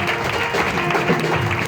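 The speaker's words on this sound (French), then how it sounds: "Clap for them." Congregation clapping during a Sunday church service, a dense continuous wash of hands close and loud for a short stretch.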